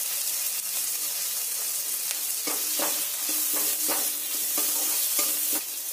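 Chopped tomato goes into frying onion and garlic paste, giving a steady loud sizzle with rhythmic scraping strokes of a spoon against the pan, close up and with no voices.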